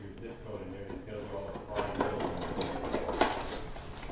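Battery screws being driven back into a Permobil power wheelchair, heard as close mechanical whirring and clicking bursts that grow busier in the second half, with a voice faintly present.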